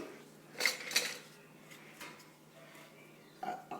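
A metal spoon clinks against other cutlery as it is lifted from a kitchen utensil holder: two bright, close metallic taps early on, then softer rattles and a final clatter.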